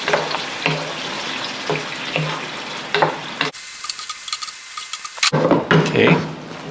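Cream and bacon sauce being stirred in a frying pan, with close, steady sizzling broken by scraping and clattering as the mixture is worked, then a brief burst of louder frying toward the end.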